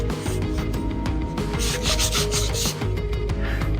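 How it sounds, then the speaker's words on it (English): Golden oak stain is rubbed by hand onto an old distressed wooden tabletop, a close, loud scrubbing of cloth on wood in repeated back-and-forth strokes with no voices. "we're going to stain the tabletop with golden oak"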